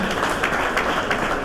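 Wedding guests at a Banyamulenge celebration applaud the Ntwari family, a dense, even wash of clapping from many hands that holds steady throughout.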